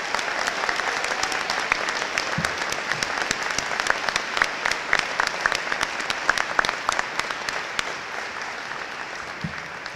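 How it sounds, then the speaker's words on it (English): Sustained applause from a commencement audience honoring faculty and staff, dense steady clapping throughout with a few scattered louder claps and faint crowd murmur. "please join me with this round of applause for our faculty"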